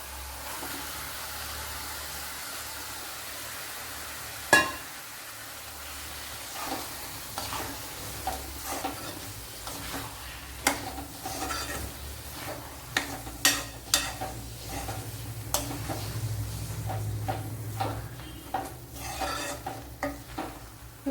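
Spinach frying with onion and tomato in a pan for a cheera curry: a steady sizzle and hiss under repeated scraping stirs and light clanks of the utensil against the pan, close and continuous.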